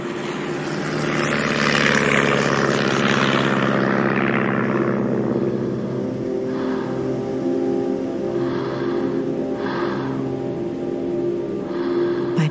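Airplane in flight in an audio drama: a steady, loud cabin drone of engines and rushing air holds throughout, with a few soft hissing swells toward the end.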